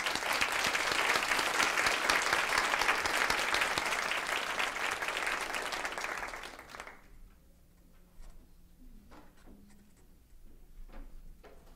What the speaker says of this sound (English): let's give another hand to our honorees and to all of our nominees as well